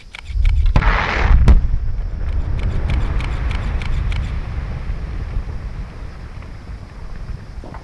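A rock blast in an open-pit gold mine booms once near the start, a deep rumbling burst with a sharp crack, then a long low roar of falling debris that slowly fades across the rest of the span.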